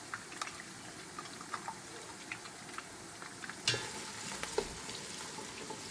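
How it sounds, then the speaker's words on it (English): Tomato paste frying with onions and scotch bonnet for jollof rice, a soft steady sizzle up close, broken by small pops and a few stirring scrapes. "So you're going to allow the paste to fry until it got a darker color."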